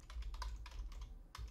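Computer keyboard typing a command in Windows, a quick series of distinct key clicks with short gaps, close and clear against a low background hum.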